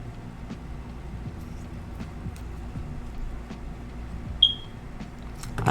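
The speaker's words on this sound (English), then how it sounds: "I know, you're beeping." A single short, high electronic chirp sounds partway through from a device, heard over a low background rumble and small clicks in a quiet room.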